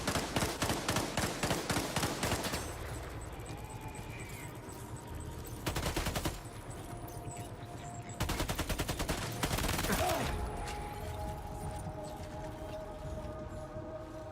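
Repeated bursts of video game gunfire with a shotgun in play, several loud clusters of rapid shots separated by quieter stretches of low background rumble and ambience.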